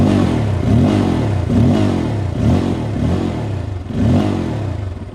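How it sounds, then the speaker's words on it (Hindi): A Bajaj Pulsar N250 motorcycle with a dual barrel exhaust revs up close and loud in about four throttle blips, each rising and falling over a steady idle rumble. "अब एग्जॉस्ट नोट सुनो भाई, डुअल बैरल एग्जॉस्ट है इसमें।"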